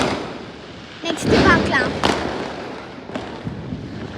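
Diwali firecrackers go off outdoors in a few sharp bursts, including a large one with crackling tails in the middle, while a person talks close by throughout.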